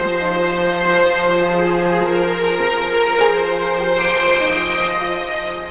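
A phone rings during a call in a Pakistani drama scene, a steady melodic ringtone with layered tones that brightens near the end, loud and continuous with no talk over it.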